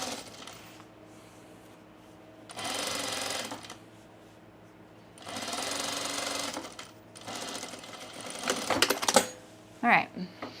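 A sewing machine stitches a seam on a sunblock top in three short runs of whirring, separated by pauses, followed by clicks and handling noises near the end.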